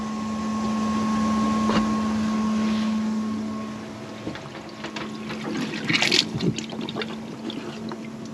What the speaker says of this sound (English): So you can hear the pump, submersible pump.